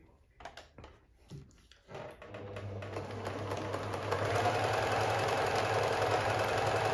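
After a few light clicks and handling noises, a Pfaff 1525 sewing machine starts up and runs with a steady, even mechanical hum that grows slightly louder, without rattling.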